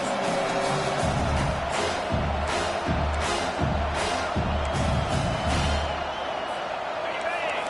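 A stadium crowd in an American football video game roars in a loud, continuous wash, with commentary talk layered over it.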